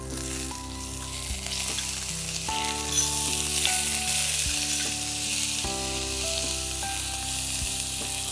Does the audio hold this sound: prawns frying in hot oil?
yes